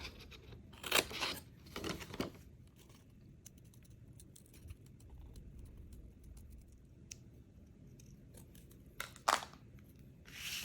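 Scissors snip out a paper wax seal for a homemade Hogwarts-style acceptance letter, a few short crisp cuts near the start and one more burst toward the end, close and quiet over a faint background.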